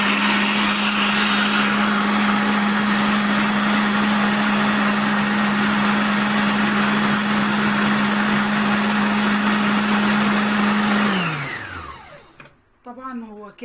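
A steady, loud motor whine comes from an electric mixer beating orange cake batter flavored with Tang and vanilla. It runs evenly for about eleven seconds, then spins down and stops, leaving faint bumps and handling noises.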